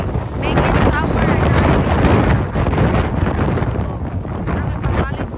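Strong gusting wind at a Grand Canyon viewpoint in winter, loud buffeting roars battering the microphone and swelling and easing throughout.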